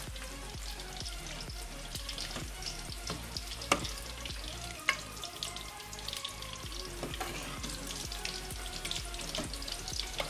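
Fried pakoras are stirred into simmering kadhi, producing a quiet continuous bubbling and frying texture with occasional soft spoon knocks, no speech.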